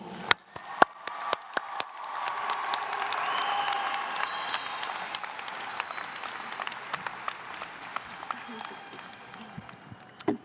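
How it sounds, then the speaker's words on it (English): A graduation crowd applauds and cheers the class of 2024 at a high school ceremony, with a few sharp close claps at the start, then a broad wash of distant clapping that gradually thins out. "Can we have a round of applause for the class of 2024?"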